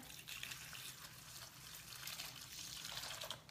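A thin stream of liquid pours steadily and quietly, a soft trickling splash that continues for a few seconds with no talking.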